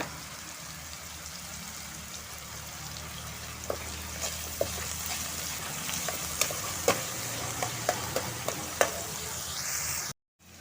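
Chopped onion, sliced green chili and curry leaves frying in a pan, giving a steady close sizzle with scattered pops and spatters and an occasional stir, which ends abruptly.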